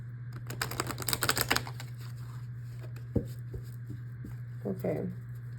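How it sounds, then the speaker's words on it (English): Tarot cards are riffle-shuffled by hand in a close burst of rapid papery clicks, then a few isolated taps and card handling follow over a steady low electrical hum. "Let's do one more shuffle."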